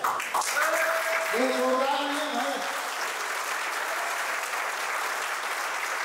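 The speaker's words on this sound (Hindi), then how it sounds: "मैं चाहता हूं आप सभी लोग अपने लिए, अपनी मेहनत के लिए जरूर एक जोरदार ताली दें" Loud, sustained applause fills a hall at a company's third anniversary celebration, the clapping steady and dense throughout, with brief voices rising over it near the start.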